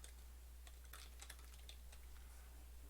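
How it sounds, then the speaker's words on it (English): Soft, rapid keystrokes tap on a computer keyboard over a steady low hum, forming a brief run of clicks heard up close with no talking. "Why do you make me type this several times?"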